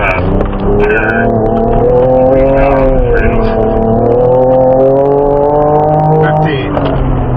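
A Ford Ranger Raptor accelerates off-road, its engine roaring loudly as revs rise and fall while the truck slides, and voices talk over it in the cabin.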